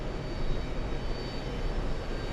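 An Airbus A321 on approach to runway 22 left at JFK gives a steady, broad jet roar, loud and unbroken throughout.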